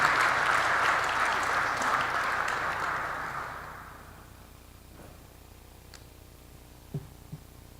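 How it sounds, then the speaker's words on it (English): A crowd applauds at a memorial celebration, a wash of clapping that fades out over a few seconds, followed by near quiet with a couple of faint knocks. "give yourselves a round of applause for making this great day possible"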